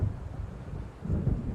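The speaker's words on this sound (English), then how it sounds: "It seems there's a storm coming." Low rumbling thunder from an approaching storm in the video game Alan Wake, rolling in two broad swells with a brief dip between, steady and fairly loud with a hint of rain-like wash.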